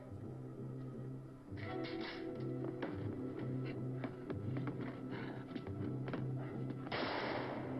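Sharp gunshots from the film Night of the Living Dead crack out repeatedly at moderate distance, scattered over a low film soundtrack with music underneath.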